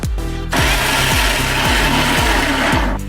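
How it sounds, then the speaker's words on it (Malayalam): A blender whirs as chopped mango is blended for mango ice cream, a steady loud motor drone with rhythmic pulsing as the blades churn, starting after a brief pause and cutting off near the end. "നമുക്ക് ഈ മാംഗോ അരിഞ്ഞത് ബ്ലെൻഡറിലേക്ക് ഇട്ട് കൊടുക്കുക"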